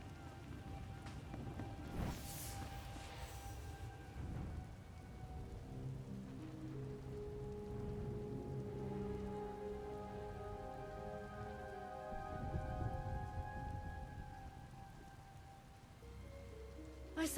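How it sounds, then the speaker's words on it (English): Heavy rain in the video game Star Wars: The Old Republic pours steadily as a dense, continuous hiss, with a brief louder burst early on and faint music underneath. "Rain's wiped out the trail."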